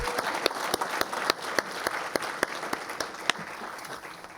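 Audience applause for the Women's Achievement honorees at a college awards program: steady, dense clapping from a crowd with a few sharper individual claps standing out, continuous throughout.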